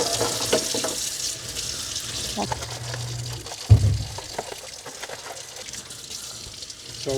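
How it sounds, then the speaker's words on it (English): Tap water runs and splashes into a sink as garden pots are washed with dish soap, a steady hiss with clatters of handling and a sudden louder splash midway, while people talk quietly. "So we're gonna wash all these with dish soap before we plant anything in them"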